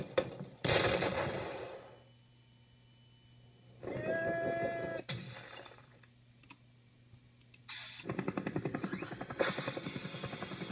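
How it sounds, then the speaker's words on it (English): Loud bursts from a video game flashbang grenade on an airship level, several sharp blasts each trailing into a ringing, hissing tail, separated by quieter stretches of game ambience. "Flashbang."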